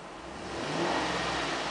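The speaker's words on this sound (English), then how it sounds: "I'm going to rev the engine." The 5.3-liter V8 of a 2012 Chevrolet Suburban revs up from idle, the engine note swelling into one smooth rise and holding there, close and alone.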